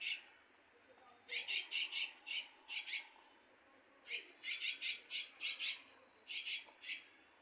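A pet common myna squawks in repeated harsh bursts while drinking water from a syringe, clustered calls in three rapid groups, close and clear over quiet room background.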